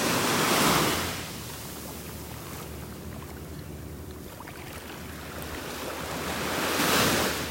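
Gulf of Mexico surf at a beach in North Naples, Florida, washing ashore in two swells, one at the start and one near the end, with a steady wash and light wind noise between them.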